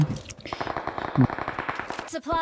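Rapid automatic gunfire in the mobile battle royale game BGMI, a dense loud burst of shots fired in quick succession lasting a couple of seconds.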